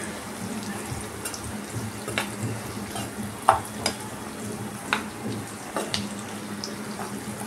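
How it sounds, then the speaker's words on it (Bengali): Cauliflower and water go into a hot pan for a korma, giving a steady sizzle with scattered sharp pops and clinks of stirring, heard close by. "এখন আমি ফুলকপিটা দিয়ে দিচ্ছি এবং একটু জল দিয়ে কিছুক্ষণের জন্য ঢাকা দিয়ে রাখতে হবে।"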